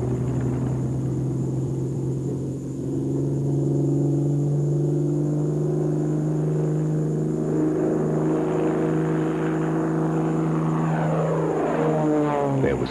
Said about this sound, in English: Hans Sanders at the control, the first 190, known as V1, taxied down Bremen's airfield to put the new theories to the test